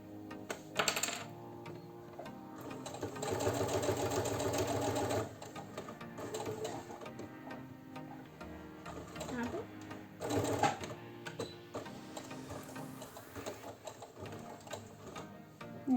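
Sewing machine stitching back-tack stitches on a fabric hair scrunchie with ribbon, short mechanical whirring bursts separated by pauses and clicks, close, with a voice talking between and over the runs.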